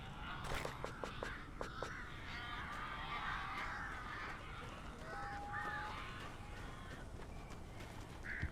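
Crows caw in the Alan Wake video game, several harsh calls bunched over a few seconds, moderately close against a dark ambient background with a few sharp knocks early on.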